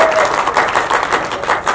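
Loud, sustained crowd applause and cheering for Nepali actor Paul Shah at a music video launch event, dense clapping throughout with no pauses.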